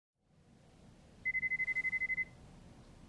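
A phone rings in the video game Lost Judgment: a rapid trill of about a dozen evenly pulsed electronic tones lasting around a second, rising out of a quiet low ambient hum and then stopping.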